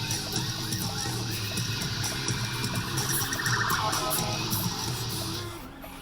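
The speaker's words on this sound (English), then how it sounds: "Sirens, idiot." Emergency vehicle sirens on a road in New Hampshire or Maine, a wavering electronic wail heard from a passing car over steady traffic and engine noise, fading near the end.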